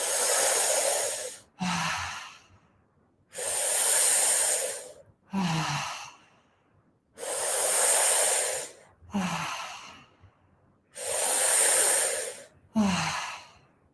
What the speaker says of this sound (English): And breathe right now in a connected way where inhale goes to exhale and the opposite.